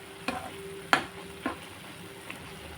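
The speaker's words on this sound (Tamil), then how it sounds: "இந்த மொச்சையை போட்டுட்டு நல்லா மிக்ஸ் பண்ணலாம்." Field beans (mochai) for a gravy are stirred in a frying pan, with about four sharp spoon scrapes against the metal over a faint, quiet sizzle.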